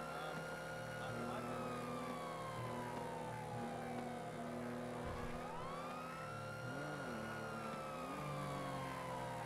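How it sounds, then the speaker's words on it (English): Car engine in the GTA V roleplay game during a police pursuit, a steady droning hum with rising and falling pitch as it revs, heard alongside a siren wail throughout. "That engine sound."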